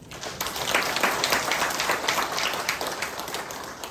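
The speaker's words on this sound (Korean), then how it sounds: "우리 박수 한번 쳐요" Churchgoers at a Catholic charismatic prayer Mass clap together after the homily's call, a loud, dense burst of applause filling the space and staying strong throughout.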